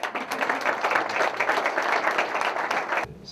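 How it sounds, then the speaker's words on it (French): An audience at a business forum in Beijing applauds the ambassador with steady, dense clapping that fills the room at an even level and then stops abruptly near the end. "Merci de l'applaudir"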